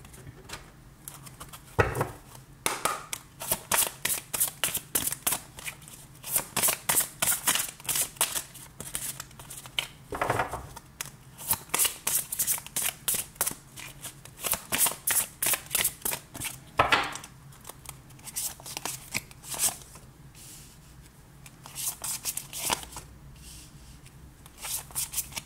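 Tarot cards being shuffled for a new draw, with repeated crisp riffling bursts in quick succession and short pauses between, close and fairly quiet, with no talk.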